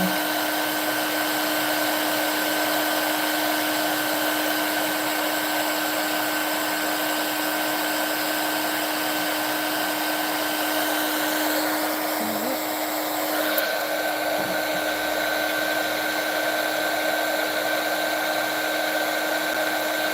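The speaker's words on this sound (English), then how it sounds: "This is all the heat embossing you need to do" A heat gun blows steadily and loudly at close range, melting embossing powder on a birthday card, a constant whirring roar with a steady high-pitched whine that barely changes over the whole stretch.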